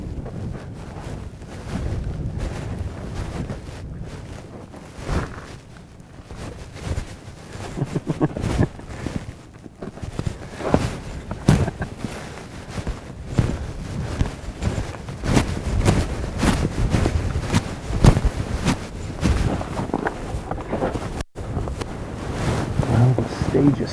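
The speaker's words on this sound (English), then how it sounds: "I was hoping here at the end of the day the wind was going to die down a little bit. It is a little bit, but it's still blowing maybe 12, 15." Strong wind blows steadily across an open field at the end of a day of coyote hunting in Nebraska, gusting around 12 to 15 mph as a constant rumbling buffet on the microphone, with someone talking over it.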